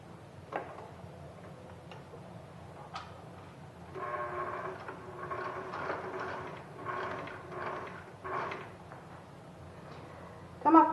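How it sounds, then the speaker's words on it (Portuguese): A sewing machine stitches a pinned fabric blazer sleeve. Faint, rapid mechanical stitching runs in several short bursts in the middle, over a quiet room hum, with soft ticks and handling noises before and after. "eu vou agora costurar aqui"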